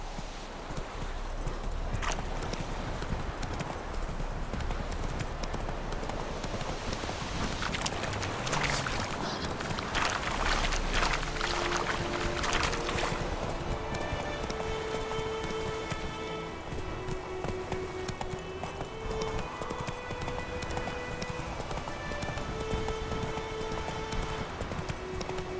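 Roach the horse gallops in The Witcher 3: Wild Hunt, rapid rhythmic hoofbeats clip-clopping steadily and close, running on over a continuous ambient game soundscape with music-like tones later on.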